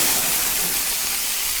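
Fresh bones browning in a hot pan give a steady, loud, broadband sizzling hiss that runs unbroken and close for the whole stretch, with no talk over it.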